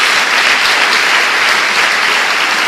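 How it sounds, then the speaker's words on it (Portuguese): Congregation in a church service applauding together, a steady, dense wash of clapping that fills the space evenly from start to finish with no voices rising above it. "uma salva de palmas do Jesus"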